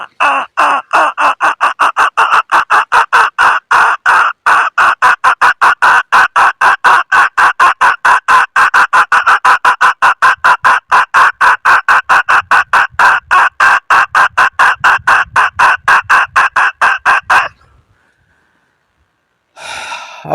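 A man mimics the call of a female red junglefowl with his voice, giving a long, fast run of sharp, evenly spaced clucking pulses that holds steady for about seventeen seconds and then stops abruptly.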